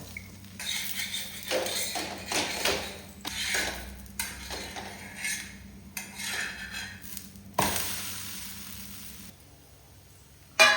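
A buttermilk onion roti fries in a pan with oil or ghee, giving a faint sizzle under repeated scrapes and clinks of a spatula against the pan, and one sharp knock near the end.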